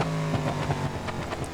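A Gavril Bluebuck in BeamNG.Drive idles with its exhaust pipes removed, a low, throaty engine rumble with uneven pulsing throbs, close and steady over a short stretch without talk.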